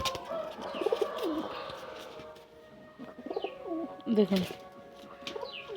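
A female pigeon recovering from illness coos like a male in short, throaty bursts, close and fairly loud, while someone speaks briefly between the calls.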